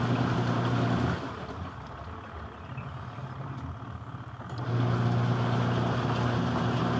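A steady leaking washing machine's wet motor hum runs throughout, dipping quieter for a few seconds in the middle before returning to its fuller drone.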